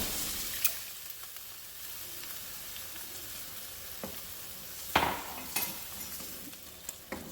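Bean sprouts hit a hot stir-fry pan with beef and noodles, setting off a soft steady sizzle broken by a few sharp clinks and scrapes of utensils against the pan.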